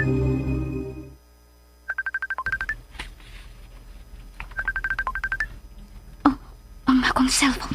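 A cellphone rings in a radio drama, repeating chirpy electronic tone bursts in two clear sets, with other short electronic tones and a sharper ringing burst near the end, over a quiet background.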